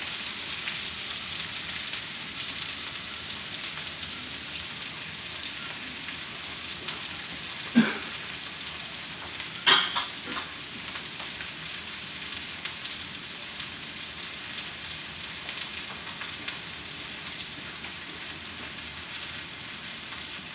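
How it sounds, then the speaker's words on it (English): Chopped onions cook down in a pan for shrimp fried rice, giving a steady, even sizzle like light rain. A couple of brief clicks or taps stand out near the middle. No one talks. "dump in my onions and just kind of let them cook down a little bit"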